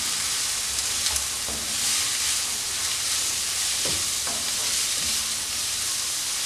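Small chopped onions and chicken filling sauté in a hot pan, with a loud, steady sizzle throughout and occasional scraping stirs.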